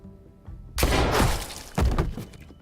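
Two sharp broadband blasts from a gunshot in The Walking Dead: A New Frontier video game, the first near 0.8 s with a long ringing tail and the second near 1.8 s, loud and close over a quiet room tone.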